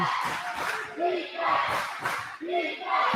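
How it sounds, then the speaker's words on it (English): A high school boys' basketball crowd in a gym chanting "defense" in a loud, rhythmic two-beat pattern, repeated several times with stomps or claps under the voices. "Halstead crowd chanting defense"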